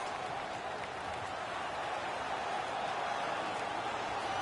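A hockey arena crowd in NHL 18 roars and claps in a steady, broad wash of cheering after a fight, moderately loud and sustained without a break.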